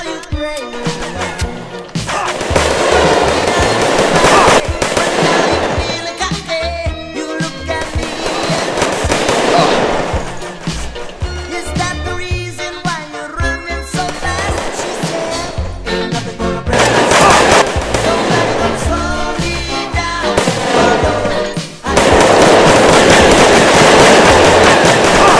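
Rapid gunfire from a Unity 3D video game, loud and dense, with bursts of overlapping shots and crackling reports running almost continuously, swelling and dipping in clusters with brief gaps.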